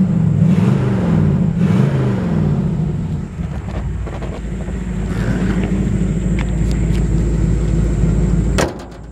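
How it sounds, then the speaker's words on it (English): A 1950 Chevy chop-top hot rod engine rumbles close by with a deep, throaty exhaust note, idling and shifting in pitch before cutting off abruptly near the end. "It's got a good sounding exhaust system."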